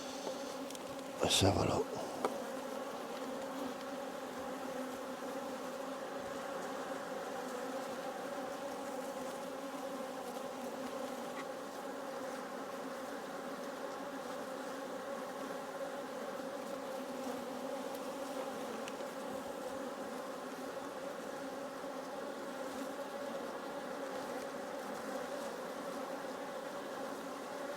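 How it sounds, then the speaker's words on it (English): Honey bees buzz inside an opened hive in a dense, even drone that holds steady throughout, with a brief sharp knock near the start and a few quiet words from a beekeeper. "These bees are hungry."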